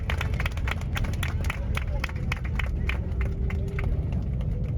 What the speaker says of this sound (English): people always start clapping upon landing